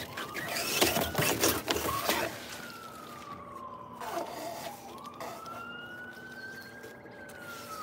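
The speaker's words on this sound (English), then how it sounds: "Sirens." Distant emergency sirens rise and fall in long wailing sweeps near an abandoned railroad bridge, after a burst of clanking and rustling handling noise, fairly faint over steady outdoor background.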